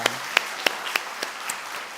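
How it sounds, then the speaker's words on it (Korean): Sparse, scattered claps ring out at a Korean Methodist church service as the congregation applauds its teachers, a handful of distinct hand claps at uneven intervals over a quiet room. "우리 선생님들 위해서 박수 한번 하시죠"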